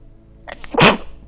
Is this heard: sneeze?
yes